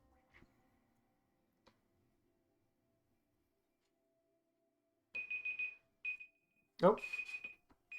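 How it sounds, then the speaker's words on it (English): An alarm gives a few short bursts of steady tonal beeps in the second half, set against a quiet room, with a brief spoken word and other short noises nearby. "That's an alarm for me to go and move some peroxide around."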